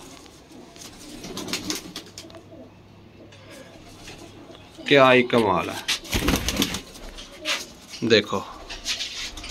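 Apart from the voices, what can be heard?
pigeons cooing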